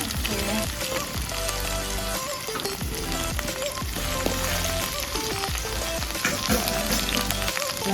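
Kalonji seeds and finely chopped green chillies sizzle and crackle steadily in hot oil, with a constant close frying hiss and a loud, busy texture throughout.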